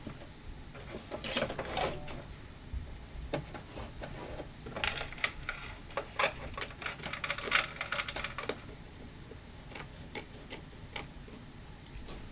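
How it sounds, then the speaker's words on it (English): Home sewing machine running decorative stitches around a star on a patriotic pillow, heard as fairly quiet bursts of rapid clicking and ticking that start and stop, with short pauses between runs and no talk. "I'm going to let it do the decorative stitching around that star."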